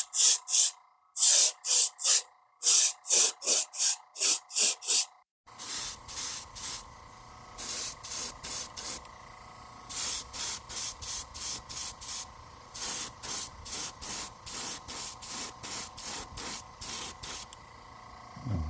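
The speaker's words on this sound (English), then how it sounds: "And then I'll clear coat over all of them." Clear coat sprayed from an aerosol can over painted gizzard shad fishing lures, heard as many short hissing bursts in quick rhythmic runs, loud and close with no talk.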